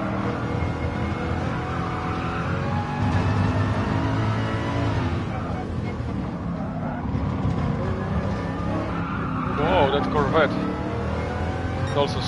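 Ford Mark IV race car sliding in Gran Turismo Sport, Nostalgic '79 event, engine droning loudly and continuously with shifting pitch, faint tyre squeal near the end, and a voice speaking over it.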